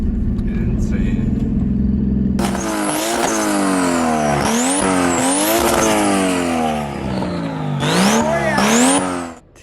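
A Nissan Skyline R33 with an RB25 engine is driven hard: after a low idle-like drone the engine roars in loud repeated climbs through the revs, sharp rises and drops between gear changes, close and dominant, with people talking under it.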